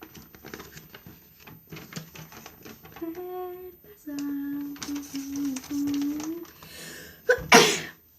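A sudden sneeze bursts out near the end, loud and close, following stretches of soft tonal humming and background clatter.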